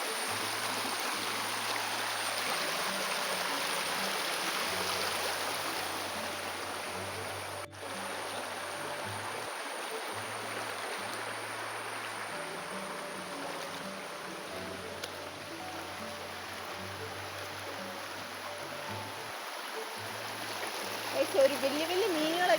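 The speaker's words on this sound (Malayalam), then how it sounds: "ഗൈസ് ഇതാണ് ഞങ്ങളുടെ അതിവിശാലമായ തോട്" Water flowing steadily in a wide village stream, a soft continuous rushing wash beneath intermittent talk, with a faint engine-like hum in the background.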